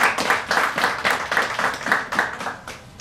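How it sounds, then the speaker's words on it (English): Audience applause at an outdoor podium event for a solar parking gallery project, a short burst of fairly quiet rhythmic hand clapping from a modest crowd that fades toward the end. "That deserves a round of applause."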